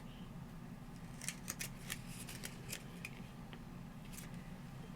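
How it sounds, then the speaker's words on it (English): Scissors snip open a yarn package tagged from New Zealand, a handful of quick, sharp cuts close by over a steady low room hum, with no talking. "let me cut this open so I can see"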